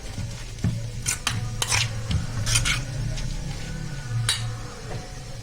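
Spoon stirring a seasoned vinegar mixture in a bowl for a baked tilapia dish, with repeated close scraping and clinking strokes at an uneven pace over a steady low hum, no talking.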